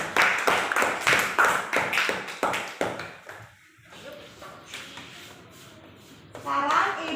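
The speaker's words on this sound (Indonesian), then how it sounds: "tepuk tangan untuk si Intan" A small classroom group claps briefly in a rhythmic burst of quick, close claps that stops after about three seconds, followed by quiet room noise and a voice speaking near the end.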